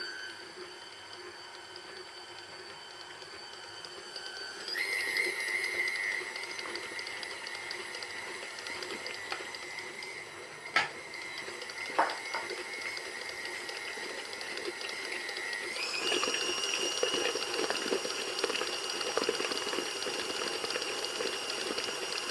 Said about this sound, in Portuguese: vou misturar todos os ingredientes